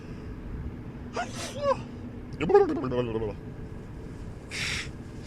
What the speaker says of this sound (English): Uh-oh, I gotta sneeze.